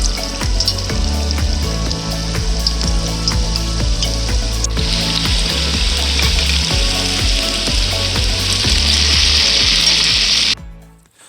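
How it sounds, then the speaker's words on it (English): Steady, loud sizzling of cornstarch-coated tofu frying in a pan, continuous hiss with a low background hum, cutting off abruptly near the end. "I'm going to coat the tofu in cornstarch and then fry it up."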